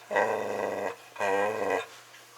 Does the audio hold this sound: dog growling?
yes